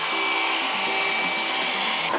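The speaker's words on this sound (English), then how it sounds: "I'm going to achieve this by heating it with my tiny little travel hairdryer" A tiny travel hairdryer blowing onto a vinyl badge on a wrapped Honda CB1000R motorcycle tank gives a loud, steady whirring hiss with a whining motor tone that runs unbroken throughout.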